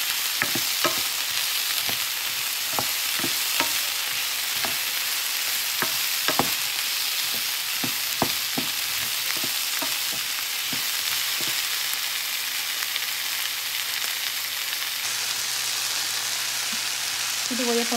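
Garlic frying in a pan while cooking Honduran tamales gives a steady, even sizzle throughout, punctuated by repeated clicks and taps of stirring.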